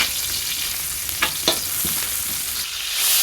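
Onions and chopped green chilies frying in a pan for a hotel-style chickpea curry give a steady close sizzle with a few brief stirring scrapes, no voices.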